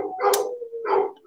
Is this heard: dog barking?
yes